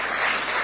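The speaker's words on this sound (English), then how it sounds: "A round of applause for Professor" Dense crowd applause fills the moment, a steady wash of clapping without pauses, brief and fairly loud.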